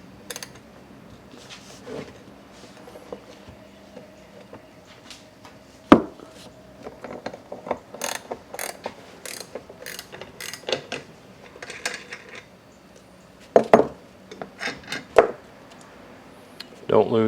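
A wrench works on the retaining nut of a rear shock absorber on a 2008 Hyundai Elantra while locking pliers hold the shaft, sounding as sharp metallic clicks and ratcheting clanks, scattered and close, with someone talking in between.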